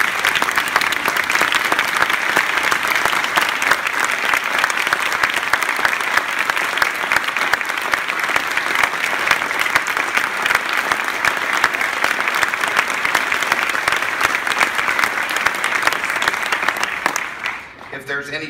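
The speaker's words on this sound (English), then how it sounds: "they deserve one rousing applause again" A crowd at an awards ceremony breaks into sustained, loud applause that holds steady for about seventeen seconds before tapering off abruptly near the end.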